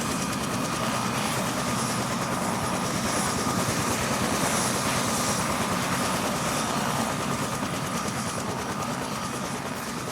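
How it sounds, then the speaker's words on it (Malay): A rescue helicopter flies near Everest Base Camp, giving a steady, loud rotor and engine roar that fills the whole stretch with little change, and no voices. "aku melihat helikopter penyelamat membawa pulang pendaki-pendaki yang cedera"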